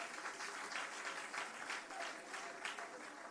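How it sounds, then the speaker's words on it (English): Applause for the mayor at a public townhall meeting, a steady, moderately distant patter of many hands clapping that holds evenly for a few seconds. "Give him a round of applause"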